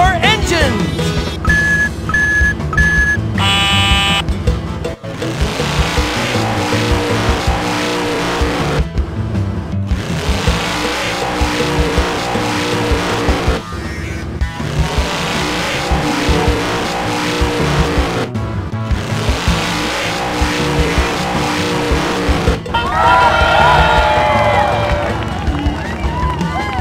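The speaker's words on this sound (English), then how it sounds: "All right, racers, start your engines!" Race car engines in the Tonka Town video game drone and buzz in loud, sustained stretches broken by brief gaps, with a short musical jingle at the start and talk-like sound mixed in.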